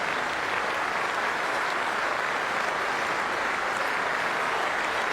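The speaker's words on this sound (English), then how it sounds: "Standing applause for this big audience out there" A large cricket crowd at Lord's gives sustained standing applause during an England versus Sri Lanka Test match, a dense, steady roar of clapping that fills the whole stretch without pause.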